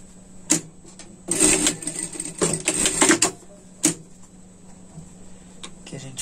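A sewing machine stitches a seam on a pet sling bag in short bursts of rapid, whirring stitching, with pauses between runs and a faint steady hum underneath.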